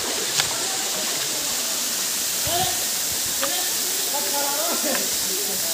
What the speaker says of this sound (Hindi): ये झरना सारे पूरे पहाड़ के ऊपर से पानी आ रहा है